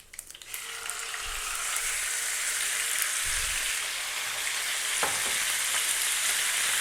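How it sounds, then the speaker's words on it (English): Beef dropped into a hot pan over medium-high heat for curry, a steady loud sizzle and hiss of frying with a few stirring scrapes and thumps, no voices. "I'm about to drop that down to medium, and we're going to drop in our beef."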